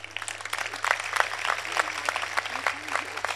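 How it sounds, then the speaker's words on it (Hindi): An audience at a stage show applauds steadily, dense rapid clapping at moderate distance over a low steady hum. "मैं चाहता हूं कि इस वातावरण को आपकी तालियों की गड़गड़ाहट मिले"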